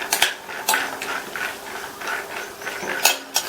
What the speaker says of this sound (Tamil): அதுல 1/4 கப் வறுக்காத வேர்க்கடலையை சேர்த்துட்டு இந்த வேர்க்கடலை நல்லா கிறிஸ்பியா வர வரைக்கும் 3 இருந்து 4 நிமிஷத்துக்கு எண்ணெயிலேயே வறுத்துக்கலாம்.